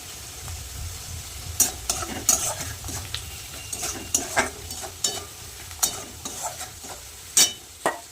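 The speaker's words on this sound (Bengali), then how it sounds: "পেঁয়াজ কিন্তু হালকা ভেজে নিয়েছি এবার দিয়ে দেবো হলুদ অল্প করে জিরের গুঁড়ো দিয়ে দেবো নুন" Onions frying in a pan with turmeric, cumin and salt hiss with a steady sizzle while a utensil stirs and scrapes in sharp, irregular clacks against the pan, close and without any voices.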